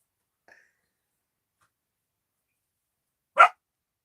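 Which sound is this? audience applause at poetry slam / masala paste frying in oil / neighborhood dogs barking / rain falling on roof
neighborhood dogs barking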